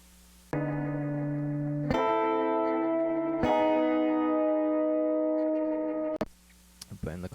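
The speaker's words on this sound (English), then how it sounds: "the slide guitar thing that I was doing before. But it's run into the space echo" Sustained slide guitar tones fed through a space echo tape-delay effect, three long held chords with rich overtones that swell and ring out over several seconds, then break off into short echoing fragments.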